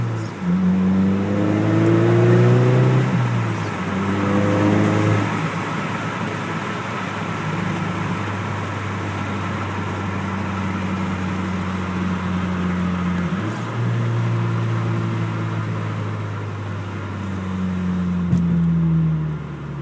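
A car engine with a muffler-delete exhaust, loud and raspy, drones and rises and falls in pitch, revving up and easing off continuously with engine braking, no talking.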